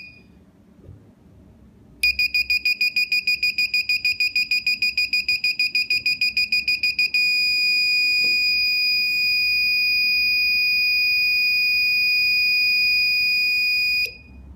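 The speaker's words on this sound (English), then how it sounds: "Once the receiver has given you all of the warning beeps and given you one long beep to confirm that it's finished defaulting" A Sherlo Tronics receiver being defaulted sounds a rapid run of loud, evenly spaced high-pitched warning beeps for about five seconds, then one long steady beep lasting roughly seven seconds, over faint background noise.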